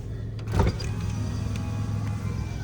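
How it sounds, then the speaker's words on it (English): Power windows in a 2004 Toyota Tacoma Crew Cab whir up and down with a steady electric motor hum, close and clear inside the cab, with a brief thump near the start. "Windows up and down"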